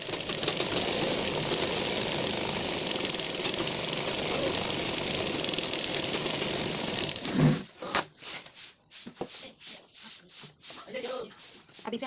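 Sewing machine stitching a blouse lining, a rapid continuous mechanical whir for most of the stretch, then slowing into separate stitch bursts and taps near the end.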